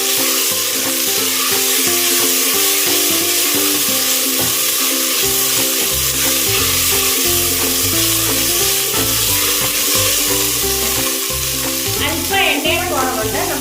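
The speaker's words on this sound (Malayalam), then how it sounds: "എന്നിട്ട് എല്ലാം കൂടി നല്ല രീതിയിൽ ഇളക്കി യോജിപ്പിച്ച് കൊടുക്കുക." Onions fry in oil in a pan for Kerala-style chicken curry, a loud, continuous close sizzle broken by scraping stirs and clattering spoon knocks.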